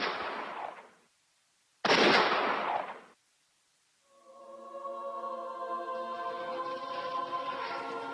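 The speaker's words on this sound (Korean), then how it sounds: "날카로운 총성이 울려 퍼졌다" Two sharp, loud gunshot blasts in a Korean War film scene set on a beach, each ringing out and decaying before silence, then a sustained tonal musical swell rises in.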